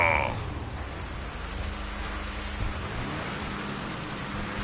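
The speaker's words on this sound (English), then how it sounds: "Drivers, start your engines." Stock car engines crank and catch at a Daytona NOSSCAR Street-Tech race, a low, rough idle rumbling under steady crowd and track noise, fairly faint and distant.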